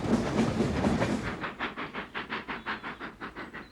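The 1923 Flying Scotsman steam locomotive runs along the line. A loud rushing passage fades into a steady rhythmic chuffing and clatter that pulses about five times a second, with no voices.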